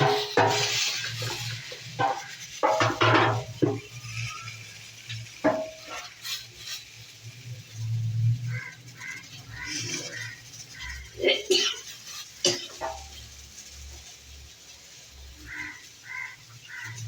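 Spices being stirred and fried in a pan for a mixed vegetable curry, with intermittent scraping and clinking of a utensil against the pot over a soft sizzle, close by, plus occasional background bird calls.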